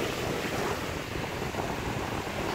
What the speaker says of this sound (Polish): Tu jeszcze małe fale, prawie żadne.